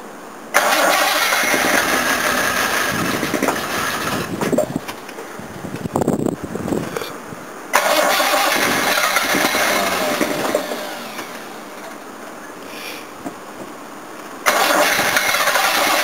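A Jaguar XJ6 car engine with no choke being cranked by the starter in several long, loud bursts separated by brief pauses, with faltering catches and uneven sputtering between attempts.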